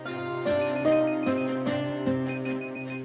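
A phone ringtone plays in a domestic scene from a Marathi TV serial, a melodic repeating tone pattern that is clear and fairly close, with no speech over it.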